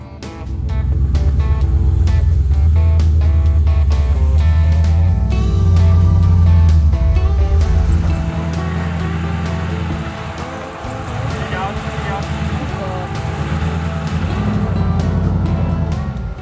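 A 4x4 with front and rear lockers works over a short, rough off-road track about 5 metres long, its engine droning loud and close throughout, the note shifting as it climbs, with people talking over it.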